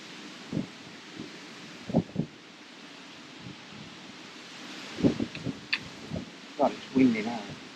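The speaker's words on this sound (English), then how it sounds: "God, it's windy now." Wind buffets the microphone in low gusty rumbles outdoors at a lakeside angling match, with scattered voices talking over it.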